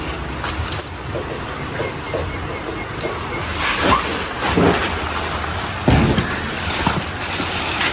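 Heavy, persistent rain pours down in a steady broadband hiss with occasional louder surges, constant throughout, with no clear speech.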